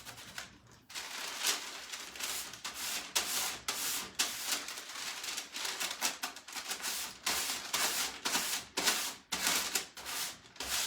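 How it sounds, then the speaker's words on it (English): Medium-grit sanding block rubbed by hand across painted furniture, a steady rapid back-and-forth scratching that continues nearly nonstop, close and fairly loud with brief pauses between strokes. "I'm gonna get a thicker grit sanding block. That'll probably make it a little faster."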